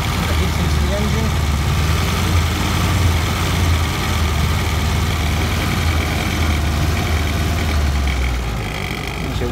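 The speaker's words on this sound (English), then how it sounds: "let's just get her started for you so you can have a little listen to the engine running" A 1937 Austin 7 Pearl Cabriolet's small four-cylinder engine runs steadily at idle, a close, continuous low rumble with an even throb and no talking over it.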